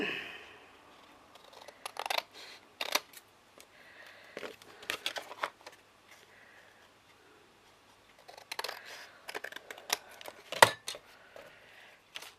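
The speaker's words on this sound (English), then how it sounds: "Cut the V." Scissors snip through paper for a 12 x 12 folded mini album, a series of short sharp cuts and rustles in bursts, separated by quiet pauses.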